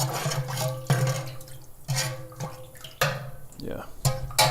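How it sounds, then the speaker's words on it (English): Water is poured into a caustic cleaning mix for home brew equipment, with splashing and running water in repeated pulses, plus a rising gurgle as a container fills. "Add some more water to it."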